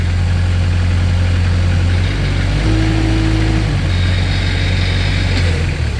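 A 2014 Moffett M55 truck-mounted piggyback forklift engine idles steadily and loudly up close, a deep continuous drone with a brief rise in pitch partway through.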